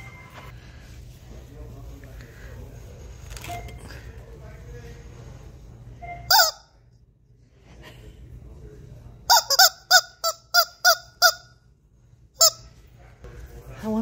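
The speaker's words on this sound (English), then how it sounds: "I see Missy's birds love these" Birds honk in short loud bursts, a single call first and then a quick run of about six honks followed by one more, with people talking quietly in between.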